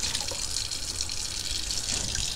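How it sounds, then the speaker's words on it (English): Tap water runs steadily into a bowl being rinsed in a kitchen sink while preparing sea moss gel, a continuous close, even hiss with no speech. "I'm just going to give my bowl a little rinse here."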